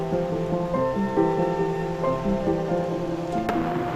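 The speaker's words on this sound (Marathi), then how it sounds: "पाऊस पडतोय मगापासून." Steady rain falls outdoors near the Shri Malanggad hills and a waterfall, making a continuous, even patter close by, with a faint tonal hum running underneath and no speech.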